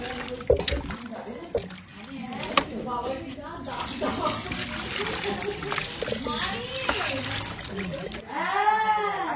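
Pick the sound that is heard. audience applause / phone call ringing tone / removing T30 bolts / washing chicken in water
washing chicken in water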